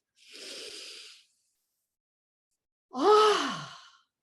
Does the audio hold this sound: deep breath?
yes